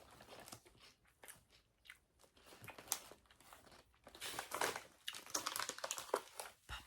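Close, crisp bites and crunchy chewing of beef flavored crisps, a series of dry cracks and crackles that grow denser and louder toward the end, with no talking.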